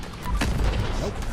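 Rocket launcher fire in the Fallout 76 video game, a single booming blast with a low rumbling tail, loud and close, over busy game noise.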